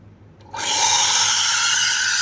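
Steam wand of an espresso machine steaming milk in a pitcher lets out a steady, close, loud hiss that starts abruptly after a brief quiet moment and holds evenly.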